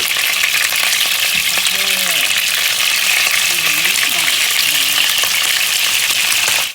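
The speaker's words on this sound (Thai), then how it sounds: "เราก็มาทอดไข่กัน" A steady, loud sizzle of eggs frying in a hot pan, continuous throughout, with faint murmuring briefly in the background.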